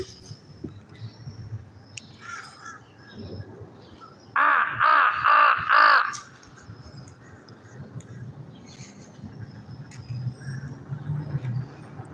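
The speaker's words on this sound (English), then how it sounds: "But there's about 3 of my crow buddies out here." About three crows call outdoors in the morning, giving a quick run of four loud, close caws in the middle of an otherwise quiet stretch of low background noise.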